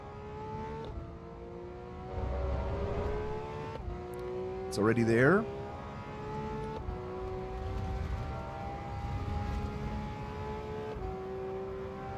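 A car engine in the Assetto Corsa EVO racing game climbs steadily through its revs, with gear shifts dropping the pitch, one loud rising surge in the middle and a droning tone throughout, under someone talking.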